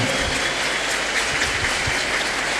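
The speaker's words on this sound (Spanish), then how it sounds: "Un fuerte aplauso para ellos" Steady applause from a church congregation, a dense, continuous wash of clapping with no voices on top.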